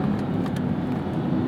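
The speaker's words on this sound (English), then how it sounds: "And that Markup V8 grumble." A 2021 Chevrolet Corvette C8 Z51 with a naturally aspirated V8 gives a steady, low, continuous engine grumble heard from inside the car, holding an even level throughout with no voices.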